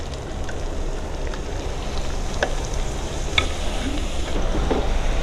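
Potatoes and halon leaves fry in a pan, giving a steady dense sizzle with occasional scraping clicks from stirring, close and continuous without speech.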